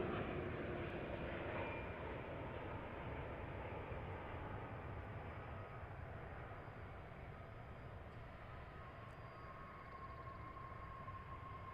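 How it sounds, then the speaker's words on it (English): A Boeing 787 Dreamliner airliner at DFW International Airport produces a broad, steady jet roar that fades slowly from loud to moderate, distant and alone, with no voices. "We get another Dreamliner."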